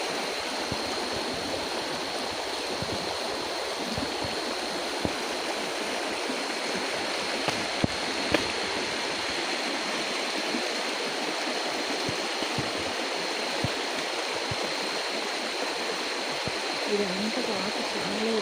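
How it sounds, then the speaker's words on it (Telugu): Rushing stream water on the route to Rampa waterfalls, a loud, steady broadband roar close by, with a voice speaking faintly underneath. "ఇదంతా వాటర్ చాలా ఎక్కువగా వచ్చేస్తుంది."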